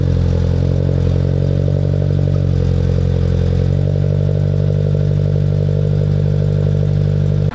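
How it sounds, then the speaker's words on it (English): Subaru BRZ tS with an aftermarket exhaust idling after a warm start, a loud, steady low engine drone with a rough burbling rhythm that holds near and alone before cutting off abruptly at the end. "Right now you guys are going to hear the warm start."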